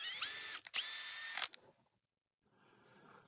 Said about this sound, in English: I like to run the tap in just to make sure they're not gummed up.